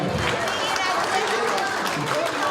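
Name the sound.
audience applause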